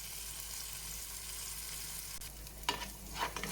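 Onions softening in a pan ahead of minced meat for rice with peas, with a low, quiet sizzle and a couple of clear utensil clacks near the end, close and alone.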